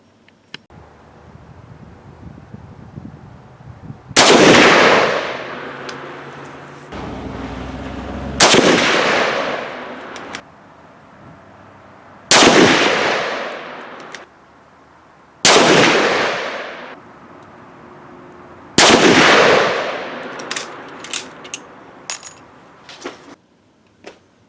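A Mosin-Nagant rifle fires 7.62x54R PPU rounds outdoors: five loud, sharp booms spaced several seconds apart, each ringing out and decaying, with faint wind and handling noise between shots.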